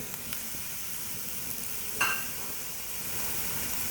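Onion and garlic fry in a pan for a mutton and taro root curry, giving a steady soft sizzle with a brief sharper crackle midway, alone without talk.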